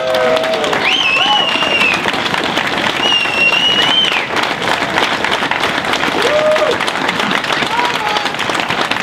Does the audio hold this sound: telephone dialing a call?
no